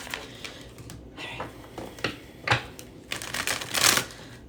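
Tarot cards shuffled by hand in a quiet room, a series of crisp riffling and tapping bursts of varying loudness, close up, with faint background noise and no clear speech.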